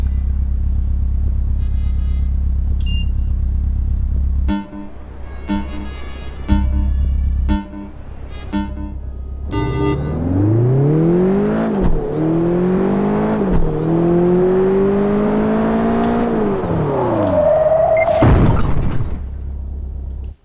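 A car engine in Project Gotham Racing 4 revs hard through repeated rising and falling sweeps while the car drifts. Choppy blips and bursts come first, then sustained loud revving, and a menu chime sounds near the end.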